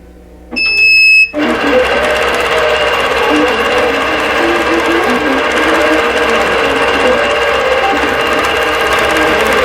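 A computerized quilting machine stitches a bordered diamond pattern, starting with a brief high electronic beep before the steady, loud motor hum and rapid needle chatter run continuously to the end.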